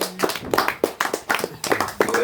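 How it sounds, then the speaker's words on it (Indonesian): A small group claps hands at a village prayer gathering, with close, uneven bursts of claps in quick irregular rhythm and faint voices mixed in. "Berikan tepuk tangan buat Tete."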